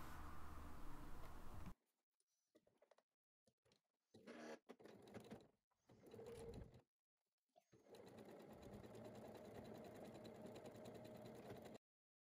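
A sewing machine stitches the seams of a zippered bag in several bursts, starting and stopping between short pauses before one long steady run, fairly close with no talk.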